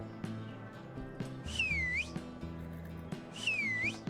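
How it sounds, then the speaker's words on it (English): A horse-calling whistle in the video game HumanitZ sounds twice, each a rising-then-falling shrill whistle over a steady low in-game background hum. "You just hold it down. You get a little whistle action."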